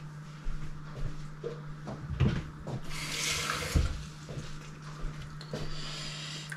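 Tap water runs into a kitchen sink while goulash is being cooked, a moderate splashing stream with a few knocks and clatters of dishes around it.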